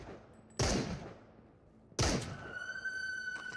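Desert Eagle pistol firing in the VR shooter game Into the Radius, two loud, sharp shots about a second and a half apart, the second followed by a lingering metallic ring.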